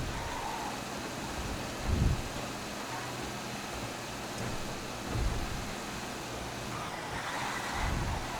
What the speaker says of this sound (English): Never seen a tow truck go this fast.